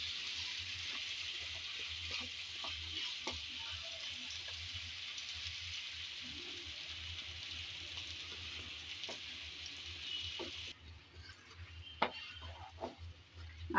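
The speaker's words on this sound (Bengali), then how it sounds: "আমি নেড়ে চেড়ে কচু ভালোভাবে কষিয়ে নেব।" Chopped taro frying in a pan with steady sizzling, broken by the scrape and clink of stirring, loud and close throughout with no talk.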